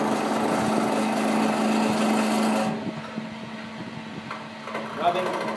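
A gouge on a wood lathe cuts into spinning wood with the bevel rubbing, giving a steady, fairly loud scraping hum for about half the time that drops to a quieter rumble of the lathe turning, with a few light ticks near the end.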